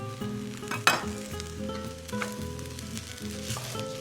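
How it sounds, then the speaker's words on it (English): Chopped garlic stirred into sizzling rice in a pan, a steady frying hiss with a sharp scrape or clatter near the start and soft stirring knocks throughout, no talk. "Stir in this chopped garlic now that the rice is milky looking."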